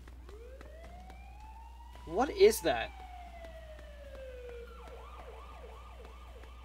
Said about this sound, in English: What keeps setting off that fucking siren?